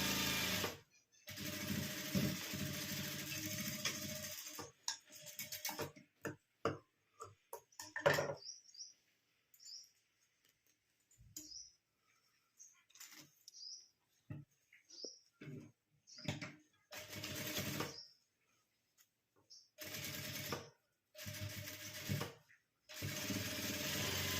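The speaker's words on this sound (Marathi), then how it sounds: "आपल्याला पक्की टीप मारून घ्यायची आहे" A domestic sewing machine stitches a small handbag made from blouse fabric, running in several loud bursts of rapid stitching separated by pauses with soft handling clicks.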